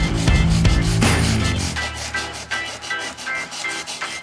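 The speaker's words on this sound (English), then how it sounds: "I'm just gonna start agitating the biggest part of the scratch." Hand sanding a deep scratch in car paint with a small piece of 180-grit sandpaper, close, with rhythmic back-and-forth rasping strokes that start heavy and settle into quicker, lighter rubs.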